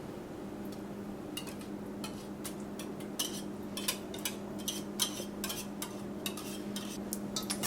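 Cinnamon roll batter with homemade vanilla is whisked in a bowl, with rapid irregular clicking taps of the whisk against the side, close but fairly soft over a steady low hum.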